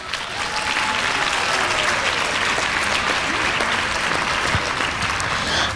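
At a youth excellence awards ceremony, an audience gives a steady round of applause for honored top students, many hands clapping in a continuous, evenly loud wash from start to finish.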